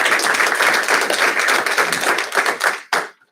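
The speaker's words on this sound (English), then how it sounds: "So a round of applause for her" An audience at a school district board meeting breaks into a burst of applause, a dense patter of hand claps that thins toward the end and stops with a few last claps.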